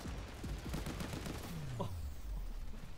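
Friendly airstrike in a video game: a dense rattle of gunfire and explosions, loud and continuous, with a falling whistle partway through.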